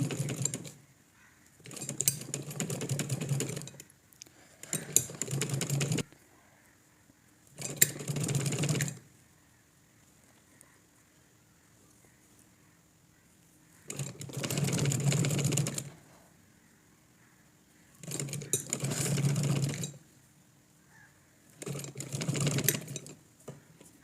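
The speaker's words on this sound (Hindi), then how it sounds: "अब यहाँ पर पिन्स उतारने के बाद सिलाई लगाऊँ।" Sewing machine stitching a collar onto buckram for a shirt, running in six steady bursts of a few seconds each with short quiet gaps between, close and clear with no talking.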